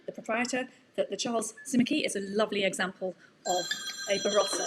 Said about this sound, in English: Oh, that's my phone. Could somebody turn my phone off for me?